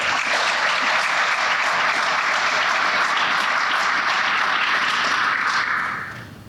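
An audience at a Midwestern conference breaks into loud, sustained applause, steady for several seconds before tapering off at the end, with no speech over it.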